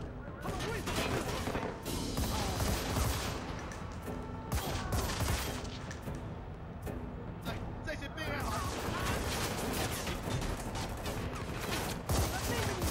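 Sustained gunfire in the co-op shooter game Army of Two: The 40th Day, dense and continuous bursts with crashes and impacts throughout, loud and busy, with voices shouting over the combat.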